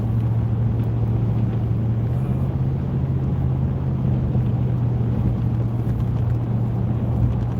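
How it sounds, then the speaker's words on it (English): Steady interior road rumble from a car cruising on the New York Thruway, with a constant low engine drone and broadband tire noise holding evenly throughout, no talk. "I'm driving home the thruway right now."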